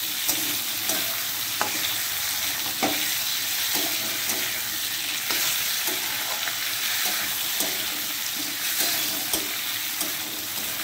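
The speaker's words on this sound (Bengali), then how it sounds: "এর মধ্যে এবারে টমেটো দিয়ে দেবো, দিয়ে ভালো করে নেড়ে" Potatoes and tomatoes frying in a pan for a breakfast potato curry, a loud, constant sizzle broken by regular scraping knocks of a spatula stirring throughout, with no voices.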